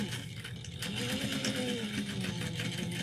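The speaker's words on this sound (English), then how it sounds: "We're going to bring this to the machine and sew this at 3/8 of an inch." A sewing machine runs steadily, stitching a tote bag seam with a rapid, even mechanical whir and clatter, close and continuous after a brief softer start.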